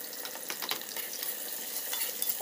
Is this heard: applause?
no